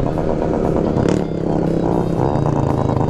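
A Yamaha XT dirt motorcycle skidding on very dry dirt in a sugarcane field, its engine droning close and loud with scraping, clattering bursts of the tires sliding.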